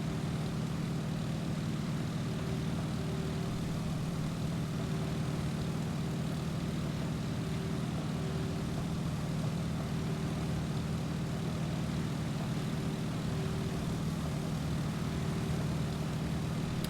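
Propeller airplane engine droning steadily through a landing approach in Microsoft Flight, a continuous even hum with a faint tonal whine, no one speaking.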